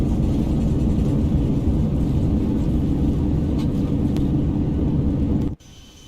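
Simulated Boeing 737 thrust reversers roaring on landing in X-Plane 11, a loud, steady low rumble and whir that holds for several seconds and then cuts off abruptly.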